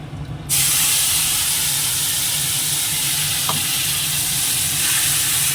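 Dried red chillies, cumin and a ground spice paste hit hot oil with a sudden loud burst of sizzling that settles into a steady, close frying hiss.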